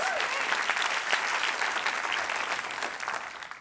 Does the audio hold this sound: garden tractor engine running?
no